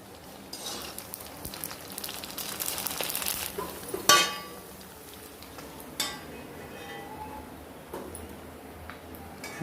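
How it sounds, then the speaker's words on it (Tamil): Puris deep-frying in hot oil, a soft continuous sizzle and crackle with occasional clinks of a utensil against the pan, fairly quiet and close, with no talking. "இதில் இருக்கிற இந்த பூரி அவ்வளோத்தையுமே இந்த எண்ணெயில் நம்ம அப்படியே ஃப்ரை பண்ணி எடுத்துடலாம்"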